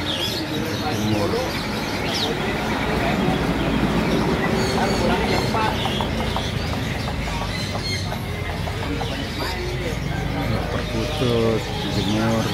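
Zebra doves (perkutut) cooing at a busy bird market, soft repeated coos mixed into a dense crowd din of chatter, other birdsong and market noise.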